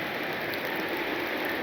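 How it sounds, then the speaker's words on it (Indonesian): Heavy rain falls steadily in a continuous, even hiss with no breaks, heard alone at a moderate distance during a camping trip. "Jadi kita putuskan menunggu hujan reda aja kawan."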